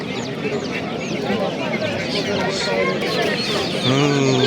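Chickens and chicks cluck and chirp continuously at a busy, noisy poultry market in Namangan, with people talking nearby over the constant crowd noise.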